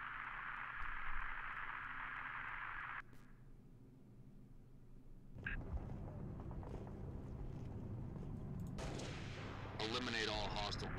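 Sustained gunfire and artillery-like blasts in Halo: Reach during a battle, a dense roaring stretch, then a quieter lull, then renewed heavy shooting with sharp bursts toward the end.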